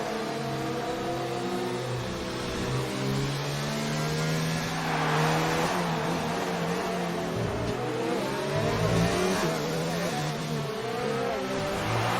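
Race cars in a racing video game roar back up to speed on track after a safety car period, several engines revving and shifting through gears in a dense, continuous pack sound, loud and close throughout.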